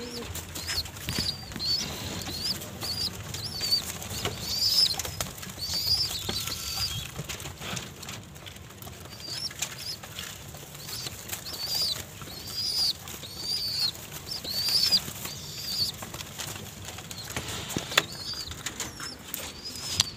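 Pigeons burst from their loft with bursts of flapping wings, soft scattered wingbeats and occasional coos over a quiet background.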